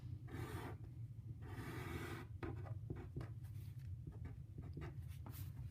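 Pen strokes on paper while writing out and plotting a graph for a college algebra problem, a steady scratching with short pauses and bursts, close and moderately loud over a low background hum.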